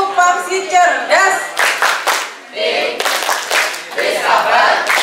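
Group of children chanting the Pamsi cerdas clapping chant in unison, voices rising and falling in rhythmic bursts with hand claps mixed through the chanting.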